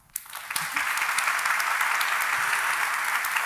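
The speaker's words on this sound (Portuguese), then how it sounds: "Bate palmas." A church recovery meeting audience breaks into applause after a sermon line, a quick onset then sustained, even clapping from many hands filling the room steadily.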